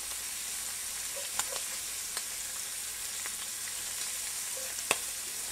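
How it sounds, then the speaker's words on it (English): Shrimp frying in grease after being flipped, a steady soft sizzle with scattered small pops and spatter ticks, close and moderately quiet, no talk. "So go ahead and start flipping these here. Use my get these turned one time. Let these cook."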